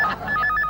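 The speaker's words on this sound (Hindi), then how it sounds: "फोन।" A sitcom telephone rings with a bright electronic trill, its rapid pulsing tones close and clear in a short burst with no one talking.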